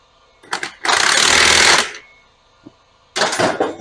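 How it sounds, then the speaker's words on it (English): Air compressor running during a small dirt bike tire and wheel repair, heard as loud, close bursts of rough, pulsing hiss: a short one, a longer one of about a second, then another starting near the end. "Compressor running."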